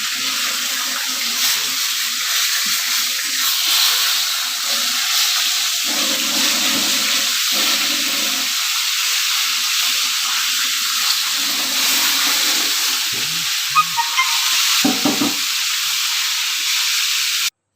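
Fish fries in hot oil, giving a continuous, close, hissing sizzle with faint bubbling and a few scraping turns near the end, no talk.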